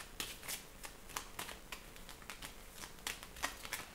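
Tarot cards being shuffled, a quick steady run of soft papery riffles and flicks close up and quiet, going on without pause and with no talking.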